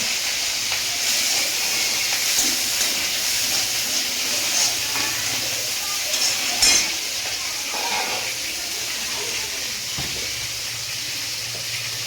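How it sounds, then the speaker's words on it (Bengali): Prawns frying with garlic and dried chilli in a pan give a loud, steady hiss that holds evenly throughout, with a brief louder burst partway through. "তার জন্য রসুন আর শুকনো লঙ্কা দিয়ে দিয়েছি, এবার চিংড়িগুলো দেবো।"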